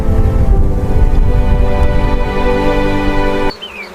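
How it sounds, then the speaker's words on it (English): Insects swarm and buzz steadily around an African buffalo in the wild, loud and close. The buzzing stops abruptly near the end, leaving faint bird calls. "Tiny insects can become a relentless source of suffering. They swarm around his eyes, ears, and skin."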